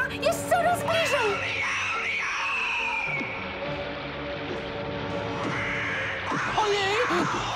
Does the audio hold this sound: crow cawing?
yes